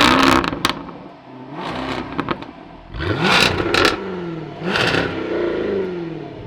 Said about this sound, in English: when you're stopped and just revving it, it does sound really amazing